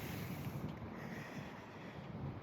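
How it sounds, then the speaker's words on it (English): Steady wind buffeting a microphone outdoors, a continuous low rumbling roar with gusty swells throughout and no speech. "this wind's starting to bother me now"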